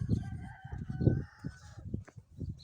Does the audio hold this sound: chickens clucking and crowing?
yes